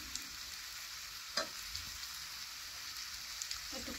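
Cauliflower and cabbage frying in a pan, with a steady, fairly quiet sizzle and crackle throughout and a few brief clinks and stirring knocks.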